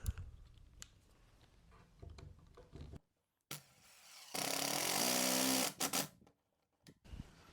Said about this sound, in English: now I can drive the screws